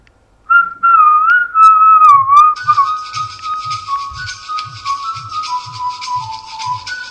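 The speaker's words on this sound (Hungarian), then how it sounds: "Miközben csak fütyülnünk kell, és a telefonunk bárhol is van, megtalálja." A person whistles a steady, wavering tune to set off a phone-finder app on an Android phone; partway through, a repeating electronic melody starts up from the phone and keeps pulsing under the whistle until the end.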